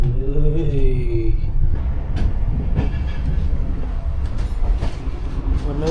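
An overnight sleeper train from Cairo to Luxor rolls along with a loud, steady rumble, rhythmic clatter of wheels and occasional metallic squeals, heard from inside a carriage.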